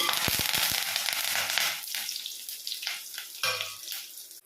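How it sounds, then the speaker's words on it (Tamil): Loud, steady sizzling of tempering spices hitting hot oil in South Indian cooking, with a few sharp pops and crackles at the start, fading slightly as it settles. "இப்போது எண்ணெய் நல்லா காஞ்சதும் நான் தாளிக்க வேண்டிய ஐட்டம்ஸ் எல்லாத்தையும் ஆட் பண்ணுறேன்"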